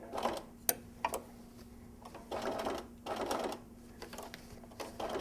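Sewing machine straight stitching fabric with fusible web and Texture Magic in short, fairly quiet bursts of rapid ticking separated by brief pauses, close by with no talking.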